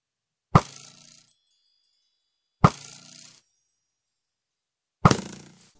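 In the Minecraft video game, a projectile strikes amethyst blocks three times at regular intervals. Each hit is a bright, crisp crystalline chime that rings briefly and fades, heard alone and close.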